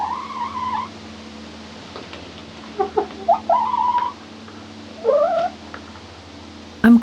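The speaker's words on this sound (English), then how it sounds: "these are the sweet voices of some chickens I got to live with for a few years" Chickens in the Kenyan savannah give a series of drawn-out, wavering calls and short clucks close by, with pauses between them, over a faint steady hum.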